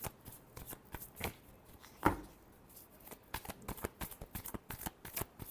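A deck of cards being shuffled by hand, a run of crisp riffling flutters and soft slaps with one sharper snap partway through, close and alone without speech.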